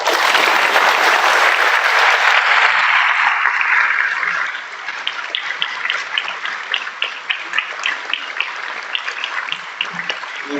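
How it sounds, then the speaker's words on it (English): Audience at a Hauppauge school board public session breaks into loud, dense clapping for about four seconds, then the applause thins into scattered, quieter claps and room noise. "Let's hold our applause for Gary just for a minute."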